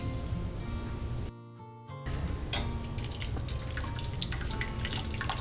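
Whey dripping from fresh goat cheese hung in cheesecloth, a continuous close trickle of liquid with a brief pause partway through.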